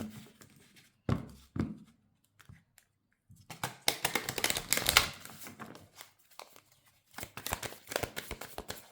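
A deck of oracle cards is shuffled by hand, giving quiet close bursts of riffling, flicking and tapping in irregular clusters separated by brief pauses, with no talk.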